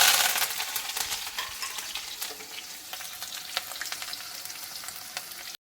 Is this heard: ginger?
yes